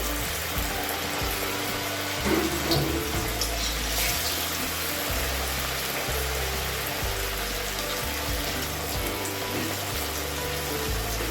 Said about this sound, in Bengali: লো হিট করে দিয়ে আমি পকোড়াগুলোকে ভেজে নেব।